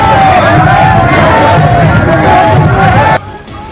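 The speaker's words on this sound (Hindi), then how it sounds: "यात्रा के दौरान धार्मिक नारे और भक्ति गीतों की गूंज" A pilgrimage procession crowd chants religious slogans and devotional songs: many voices sing and shout together, loud and continuous, then drop off abruptly near the end.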